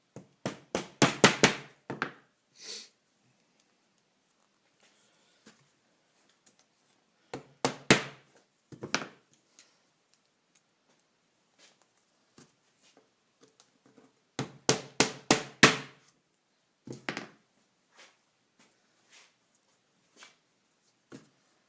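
Festool Domino tenons are tapped into pre-cut slots in a clamped wooden panel, with rapid bursts of four to six close knocks repeated in three clusters and a few isolated taps between them.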